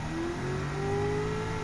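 A 2002 Dodge Viper GTS with its V10 engine in Gran Turismo 7 holds a steady, rising drone as it revs, smooth and continuous with no talk.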